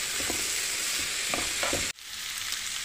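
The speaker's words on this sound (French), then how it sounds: "Mélange bien ces raisins." Raisins stirred with a spoon in a sizzling pan on a camper van stove, steady frying hiss with a few soft scraping strokes, then a short pause before the sizzle resumes, no talking.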